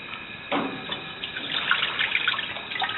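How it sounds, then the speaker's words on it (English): Water poured into an oven-proof dish inside an oven before baking a white loaf, a steady close splashing trickle starting abruptly and continuing with gurgling variation. "Now what I'm going to do with that is just pour in some water"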